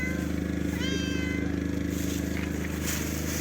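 A cat meows in a rising, drawn-out cry, close by, over a constant low mechanical hum, with faint voices nearby.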